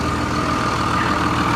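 A FedEx freight truck with a 24-valve Cummins diesel and Allison transmission sits idling, giving a steady, loud, low rumbling drone without pauses.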